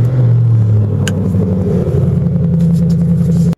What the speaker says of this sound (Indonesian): pencet tombol yang ada di atas persneling, dan mesin V8-nya bakal nyala